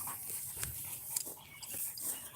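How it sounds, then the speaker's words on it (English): A small dog loose in a front yard gives short panting and whimpering sounds, a few brief yips close by against faint outdoor noise. "That's a little dog too, a little itty bitty dog."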